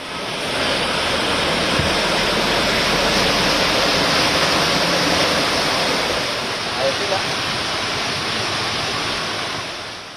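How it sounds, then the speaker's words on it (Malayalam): Heavy rain and rushing floodwater swamp low-lying streets in Kochi city, making a steady, dense, loud wash of broadband noise that holds unbroken for the whole stretch. "ശക്തമായ മഴയിൽ കൊച്ചി നഗരത്തിലെ താഴ്ന്ന പ്രദേശങ്ങൾ വെള്ളക്കെട്ടിലായി."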